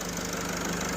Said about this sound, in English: Right, that is idling fine.